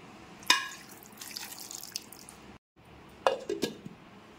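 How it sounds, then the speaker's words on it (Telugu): Water poured into a kadai to wash soya chunks (meal maker), with a few splashy pours and drips, a brief silence, then more splashing and a light metal clink, close and fairly quiet. "కళాయిలో కొంచెం నీళ్ళు పోసుకొని ఇది కూడా శుభ్రంగా కడిగి అందులో పోసుకుందాం."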